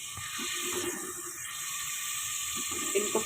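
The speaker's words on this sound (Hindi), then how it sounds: "इसको आप डाल दें, पानी समेत डालना है" Boiled chickpeas go into a pan along with their cooking water while a chana and potato pulao is being made, giving a soft splashing pour close by, followed by small clinks near the end.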